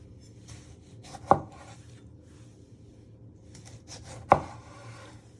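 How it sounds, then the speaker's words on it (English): Two sharp, isolated knife chops on red peppers on a cutting board, spaced about three seconds apart, close and crisp with quiet kitchen background between strikes. "So you first chop it in half and half again."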